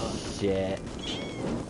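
Cats meow in Assassin's Creed Valhalla, a short run of harmonic mewing cries laid over in-game ambience with a faint patter like rain, and a voice talking alongside.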